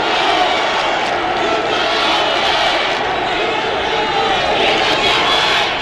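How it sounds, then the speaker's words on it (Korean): A dense, steady roar from a packed football stadium crowd at a K League Challenge match between Seoul E-Land FC and Bucheon FC 1995, fans voicing a sustained chant for player Yoon Seong-hyeon. "관중석에서 윤성현 선수를 연호하는 목소리가 들리고 있죠"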